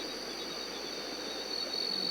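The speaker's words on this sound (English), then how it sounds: "I hear frogs and insects and birds" Insects chirp in a dense, unbroken chorus near a jungle lake. The high, steady trill goes on for the whole stretch with no voices.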